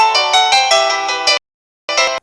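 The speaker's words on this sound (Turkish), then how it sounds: "Hemen zili çaldıra bastığınız zaman." An Android phone's bright electronic ringtone, triggered remotely, repeats in quick pulses for over a second, stops briefly, then starts again, loud and close.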